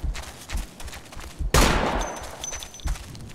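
Suppressive gunfire in Operation Flashpoint: Dragon Rising, a sudden loud close burst of shots ringing out after quieter scattered distant fire.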